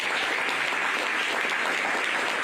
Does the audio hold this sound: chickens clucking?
no